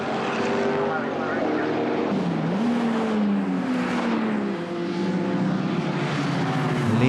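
Historic British saloon race cars, Gerry Marshall among the leaders on their tenth lap, roar past on a motor racing circuit with sustained loud engine drone and shifting pitch as they pass close by, steady throughout.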